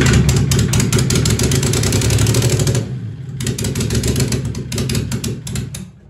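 An engine-swapped car's engine revs on its own, a loud, sustained, rough roar that dips briefly midway before surging again and easing off at the end.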